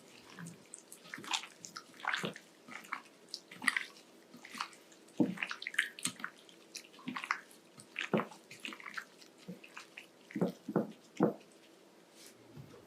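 An egg is mixed into a bowl for a crispy KFC-style zinger burger, giving close, wet squishing and sloppy slapping stirs in irregular bursts over a quiet background.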